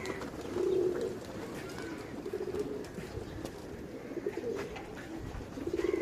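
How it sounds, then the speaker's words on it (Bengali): A flock of pigeons cooing, with repeated low throaty coos from several birds close by over a rumbling outdoor background and faint distant chirps. "ওই দেখেন কবুতর দেখাও যায় না চোখে এত উঁচু উঁচায় উঠছে কবুতর"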